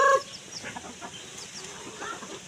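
A chicken gives a short squawk, then soft scattered clucks follow against a faint background hum, with no talking.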